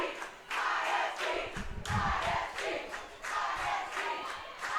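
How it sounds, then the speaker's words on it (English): A crowd of fans cheers and shouts at a high school state semifinal soccer match between Issaquah and Eastside Catholic. The roar swells in repeated surges, loud and close throughout. "Fans cheering for Issaquah."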